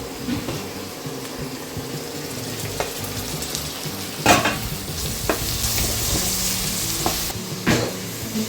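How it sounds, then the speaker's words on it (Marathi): Onion sautéing and being stirred in a hot pan, a steady close sizzle and frying hiss with scraping stirs and occasional sharp utensil clacks, no talking. "आपला इथं कांदा परतलाय, असा लाल होऊ द्यायचा कांदा"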